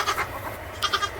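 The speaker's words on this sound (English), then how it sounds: "So if you hear somebody crying, it's the weaned little bucklings." Weaned young Nigerian goat bucklings crying in a barn, with two short, close, loud bleats separated by a brief pause.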